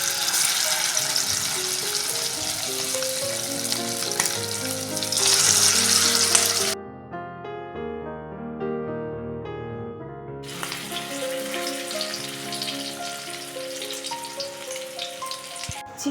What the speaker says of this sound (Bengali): দিয়ে আমি এখন লেগ পিসগুলোকে ভাজবো।